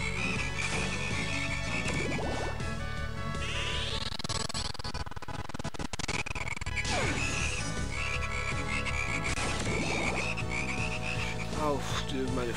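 Frogs croak repeatedly in the Castlevania: Portrait of Ruin video game, their rhythmic croaks sitting in a dense mix of game music and sound effects, loud and continuous with no talking over them.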